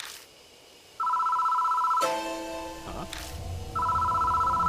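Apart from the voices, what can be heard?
telephone ringing in Spirit Hunter: Death Mark video game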